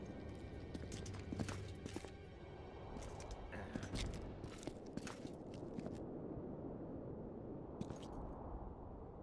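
Hooves of Roach, the horse in The Witcher 2, clip-clopping in an irregular walking rhythm close by, with a few sharper hoof strikes and no talk over them.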